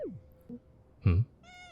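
A cat meows in the horror video game You Love(d) Your Cat!, a single short, fairly quiet mew followed by a brief higher tonal cry, with a few soft game sounds around it.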